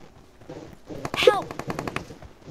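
Gunfire in the mobile battle royale game BGMI (PUBG Mobile) comes as a rapid burst of automatic shots lasting about a second, loud and sharp over quiet background game ambience.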